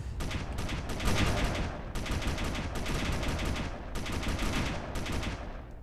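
Heavy weapons fire in the space game Space Engineers, several sustained bursts of rapid automatic gunfire separated by short gaps, loud and continuous, with no speech.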